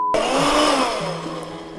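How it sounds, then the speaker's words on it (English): An electric blender liquidizing vichyssoise potato-leek soup starts abruptly and whirs loudly and steadily, its pitch shifting slightly as the contents churn, with no voices. "so the electric liquidizer it is. It's the blender."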